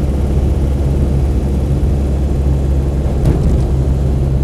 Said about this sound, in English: you can just sort of hear a chuffing noise from the exhaust